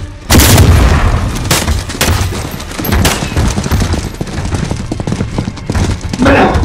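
Heavy blasts and rapid gunfire from a breach sequence in Call of Duty: Modern Warfare, starting with a sharp loud boom followed by a dense burst of shots and impacts, with muffled shouting mixed underneath.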